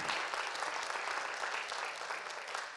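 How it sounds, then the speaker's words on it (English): An audience claps for a judge after a talk on judging at the International Court of Justice, a steady dense round of applause filling the hall at moderate volume, with no voices over it. "Another round of applause for this wonderful judge"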